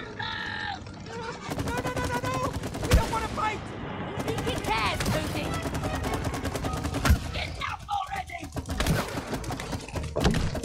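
Gunfire in the co-op game It Takes Two rattles in repeated quick volleys amid frantic game effects, with players yelling and talking over much of it.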